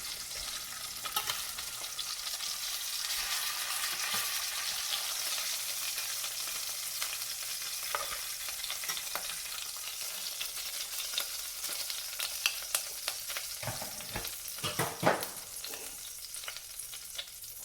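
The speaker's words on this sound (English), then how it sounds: "We've cooked about all the fat out of there that we're gonna get." Oxtails fry in their own rendered fat, a steady close sizzle and crackle that runs throughout with occasional sharper pops and no talking.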